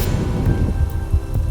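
Rain and distant rolling thunder used as a storm sound effect in a narrated romance story, a steady wash of rainfall with low rumbles, no voice over it here.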